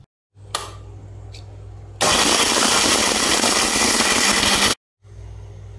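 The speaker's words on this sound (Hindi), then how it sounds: "अब मैं इसको एक ग्राइंडर जार में डाल रही हूँ और इसको मैं आपको ग्राइंड करके" Electric grinder jar whirring loudly as it grinds dry-roasted nihari spices, a steady harsh roar lasting nearly three seconds before cutting off abruptly, with quieter kitchen noise before and after.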